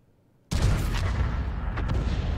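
A tank cannon fires in a video game hunting a T-34, one sudden loud blast after a near-silent lead-in, followed by a long, heavy rumbling decay with no speech.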